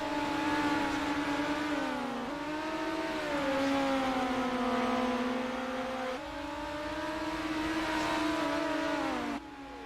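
Midget race cars circle a dirt track, their engines holding a loud, sustained whine with rising and falling revs and sudden pitch drops at gear changes, steady and distant-to-mid range throughout.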